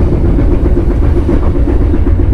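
The Manahan executive train rumbles along the rails past Cikarang station with a steady, loud low-pitched roar and a faint rhythmic clatter, heard from inside or close by.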